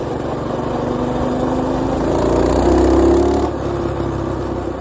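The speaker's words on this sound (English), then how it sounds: "it sounds like the chain rubbing on something" A mini bike engine runs close by with a steady buzzing drone that swells briefly as it revs, while a faint rubbing noise from the chain sits under the engine note.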